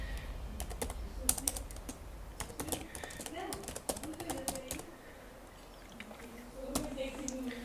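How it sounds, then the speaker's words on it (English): Rapid, close keyboard typing on a computer while entering SQL commands: a steady stream of light clicks with brief pauses, and a quiet voice speaking now and then in the background. "I am writing the commands in a single line."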